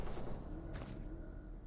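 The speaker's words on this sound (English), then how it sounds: "Already gunshots going off" Gunfire in S.T.A.L.K.E.R.: Anomaly, a dense, continuous rattle of distant shots blurred into a steady roar, with no clear separate reports and no talking.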